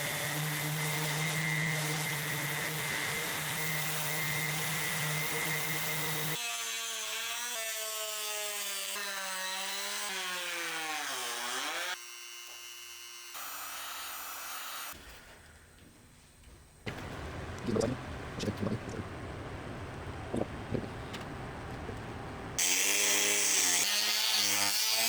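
A car side skirt on a 650HP turbo M50 E30 is sanded through an interface pad, with sustained abrasive rubbing and whirring in several bursts of changing pitch, separated by brief quieter gaps.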